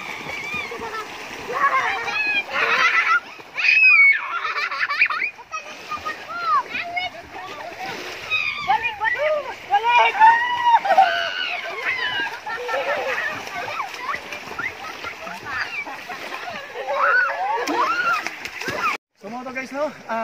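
Children swim freestyle in a pool, splashing water steadily and continuously with irregular bursts, while kids' voices and shouts carry over the splashing throughout.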